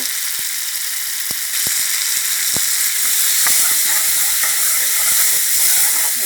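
Gourd stir-fries with soybean paste in a hot pan, a loud, continuous sizzle and hiss broken by repeated sharp clicks of the spatula against the pan, with no talking.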